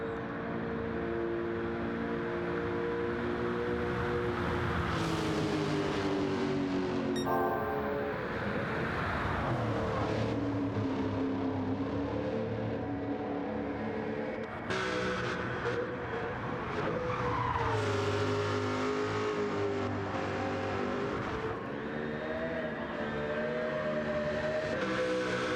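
Lexus race car in an endurance racing video game, its engine roaring loud and sustained with rising and falling revs through gear shifts, tyre squeal and skids mixed in, no talking.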